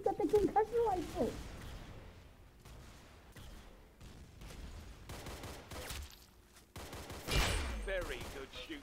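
Gunfire in a video game: dense bursts of rapid shots and sharp cracks spread across the whole stretch, with a voice talking over them.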